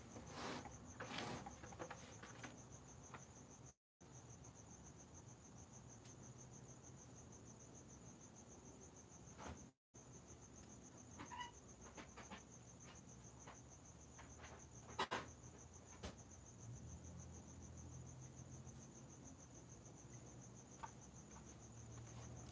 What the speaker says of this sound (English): I kind of like being out here because I can hear the cricket